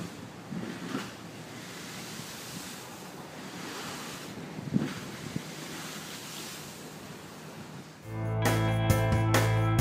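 Rough sea waves surge and splash up over a sea wall at high tide during a tropical storm, a loud continuous wash with bursts of spray and heavy wind buffeting the microphone, then a sudden louder tonal rumble near the end.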